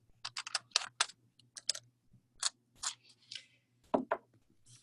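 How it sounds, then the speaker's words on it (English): A small piece of tape is pulled and snipped during a resin jewelry craft, heard as a quick run of sharp close clicks and snips followed by a few short tearing rasps in a quiet room, with no talk. "let me bring the tape in and cut a little piece"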